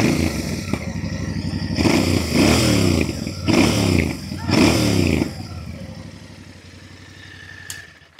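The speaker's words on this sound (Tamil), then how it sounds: "இப்போ இந்த பேர் 650யோட எக்ஸாஸ்ட் நோட் வந்து ரொம்ப சூப்பராக இருக்குது" A Royal Enfield Bear 650 scrambler motorcycle's exhaust note, revving in three strong bursts over a throbbing idle before settling back to a steady idle, loud and close, no talk.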